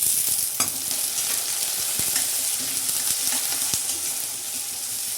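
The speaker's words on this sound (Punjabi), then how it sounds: "ਹੁਣ ਇਹਨਾਂ ਨੂੰ ਆਪਾਂ ਚੰਗੀ ਤਰ੍ਹਾਂ ਭੁੰਨ ਲਵਾਂਗੇ ਫਰਾਈ ਕਰਕੇ" Chopped onions, green chillies and ginger fry in a pan for a Punjabi kadhi pakora, giving a steady close sizzle with soft stirring clicks throughout and no voices.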